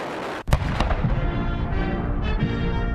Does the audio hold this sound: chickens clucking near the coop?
no